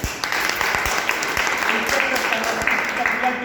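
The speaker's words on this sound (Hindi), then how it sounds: "उनके लिए एक बार जोरदार तालियां" Audience applause at a company event in Hindi, a steady dense wash of clapping held at even loudness for several seconds, with a few sharper nearby claps standing out.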